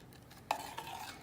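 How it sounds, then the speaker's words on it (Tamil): A single spoon scrape against a pot of onion salna curry while mixing, followed by a soft ringing trail of metal on metal, faint and close. "எல்லாம் போட்டு நல்லா மிக்ஸ் பண்ணிக்கோங்க."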